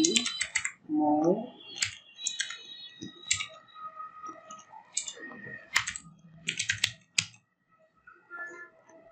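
Keyboard typing on a computer during a Shopify web design class, with bursts of clicky keystrokes spread across the stretch, mixed with a person talking over them.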